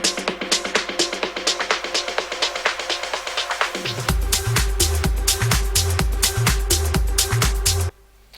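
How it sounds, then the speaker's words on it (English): A reversed impact riser effect in a tech house track: rapid rhythmic electronic hits build through a rising sweep, then deep bass thumps kick in halfway, pulsing steadily before cutting off abruptly. "you make a clone of the FX impact on the drop, and you actually just reverse it"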